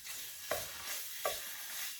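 Chopped tomatoes and vegetables frying in oil in a pan for ratatouille, a soft steady sizzle with two brief stirring scrapes about a second apart, close and quiet, no voices.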